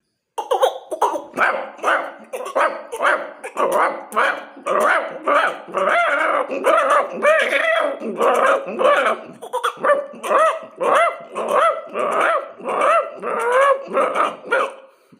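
A person's voice imitates a dog, barking and yapping in quick repeated bursts, with clucking chicken-like calls mixed in, close and loud.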